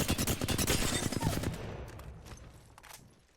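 Rapid automatic gunfire in Apex Legends while aiming through a 3x scope, a dense burst of close, loud shots in quick rhythm for about a second and a half, then tapering into fading echoes and scattered faint distant pops.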